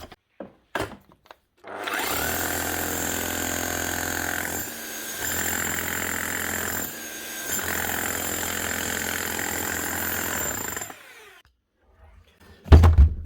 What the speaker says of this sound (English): That's one Makita hammer, HR4500C, up and running again.